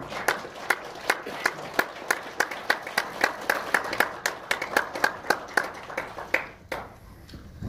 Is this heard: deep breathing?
no